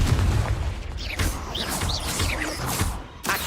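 A Confringo fire spell explodes in Hogwarts Legacy with booming, crackling blasts that roll one into the next. The bursts are loud, with a fresh sharp hit near the end.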